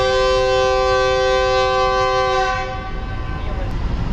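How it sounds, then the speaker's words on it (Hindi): A railcar train's long, loud horn sounding steadily at Jhelum railway station as it starts to move, then cutting off into rumbling rolling noise. "डायरेक्ट लॉन्ग विसल हुआ है और ट्रेन जो है वो मूव होना शुरू जहलम रेलवे स्टेशन से"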